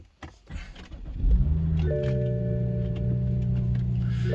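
A BMW 316i E46 engine cranks briefly with a starter whir, catches, and settles into a steady, humming idle, recorded close with no speech.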